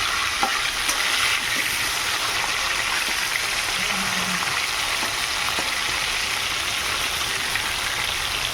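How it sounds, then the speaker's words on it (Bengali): Fish sizzling steadily in hot oil after being dusted with a little chili powder, a dense continuous crackle and hiss that holds at an even, close level throughout with no voices. "এক এক করে এই মাছগুলো দিয়ে দেবো তেলের মধ্যে"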